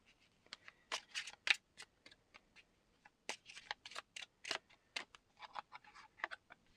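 A tarot deck is shuffled and cards are pulled during a card reading, giving bursts of crisp riffling and flicking with short pauses between them, close and quiet with no talk.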